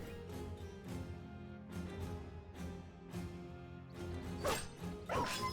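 A dog barks in a Battle Brothers turn-based combat scene, several short gruff barks spaced out among soft thuds and impacts, with a sharp clash near the end.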